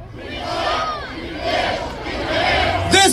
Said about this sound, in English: We have a store cheer.